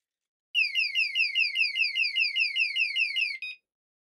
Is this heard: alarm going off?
yes